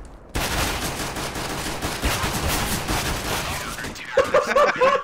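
Rapid, dense gunfire in a video game involving a Glock pistol rattles almost without pause for several seconds, loud and close, with a voice breaking in near the end.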